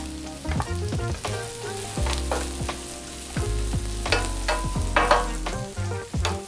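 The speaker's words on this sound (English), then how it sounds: "I'm gonna add my mushrooms." Chanterelle mushrooms fry in a pan while being cooked for a salmon dish, a constant sizzle under repeated clinks and scrapes of stirring, with a low tonal hum running beneath.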